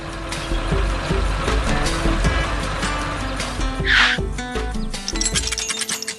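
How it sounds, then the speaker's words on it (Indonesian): An orange tow truck in a 3D animated cartoon strains its engine to haul a heavy load up out of a hole, a low, labouring drone mixed with clanks, beeps and a short hiss. "Truk derek itu mengerahkan seluruh tenaganya untuk mengangkat beban berat dari dalam lubang"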